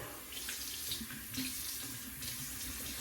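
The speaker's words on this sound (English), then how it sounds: "We'll rinse off the alum block." An alum block is rinsed under a running tap, a steady close hiss of flowing water splashing into a sink, with slight shifts as the block moves through the stream.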